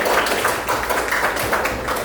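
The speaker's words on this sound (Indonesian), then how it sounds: "Tepuk tangan dulu untuk Haji." Classroom applause after a physics lesson, a steady patter of clapping hands from students that continues evenly for about two seconds, close and moderately loud.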